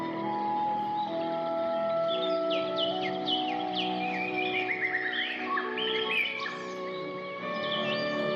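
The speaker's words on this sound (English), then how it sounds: "When hornbills gather, the canopy becomes alive with sound, wings beating, casques clattering," Hornbills call from a fig tree canopy in a forest, with a series of loud, rising and falling calls over a steady, tonal background of other bird sounds.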